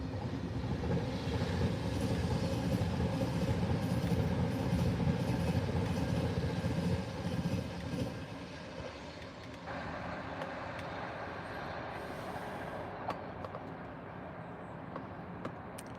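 A GBRF Class 47 diesel locomotive and its train pass close by on the railway, a loud broad rumble and clatter for about eight seconds that then drops to a steadier, quieter roll as it moves away.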